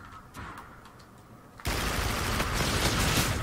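Automatic gunfire from a Call of Duty: Infinite Warfare gun game match erupts abruptly after a quiet moment, a loud sustained burst of rapid shots that keeps going to the end without any talk.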